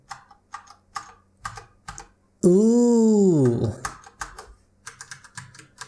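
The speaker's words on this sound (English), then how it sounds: "Let's press a key" Key presses on an ASUS ROG Strix Flare gaming keyboard with a Scandinavian layout: a series of sharp, close clicks spaced unevenly. A voice gives a long drawn-out exclamation in the middle.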